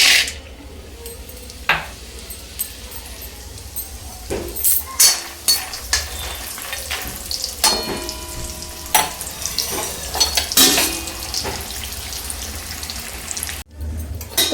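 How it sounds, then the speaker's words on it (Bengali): Dried lentil badis fry in mustard oil on a gas stove, with soft, steady sizzling broken by sharp clatters of stirring and utensil knocks, plus brief bursts of running water. "বড়িগুলো একটু হালকা লাল করে ভেজে আমি তুলে নেব।"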